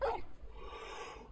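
A dog companion in Final Fantasy 16 gives a single short yip at the start, close and brief, then fading into quiet game ambience.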